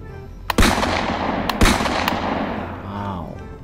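Toy gun shooting sound effects from a Spider-Man or Captain America toy pistol, two loud sharp bursts with ringing decays and a fainter pop, close and without talk over them.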